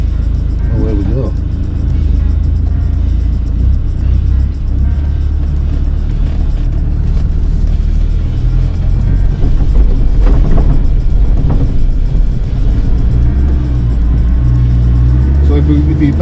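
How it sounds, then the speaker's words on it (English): A Twisted Defender engine rumbles steadily as the vehicle creeps along an off-road course at low throttle, a loud continuous low drone with occasional clunks, while people talk over it. "feet off the pedals once you get going, a little bit of throttle, no brake, no clutch, and away we go."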